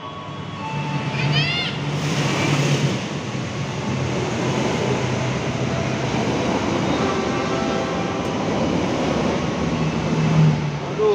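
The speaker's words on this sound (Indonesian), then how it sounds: "Wah, ada kereta datang, Mas." Commuter train pulling into a Jabodebek station, a broad rumbling roar that swells and holds steady with a brief horn-like tone near the start, while people talk nearby.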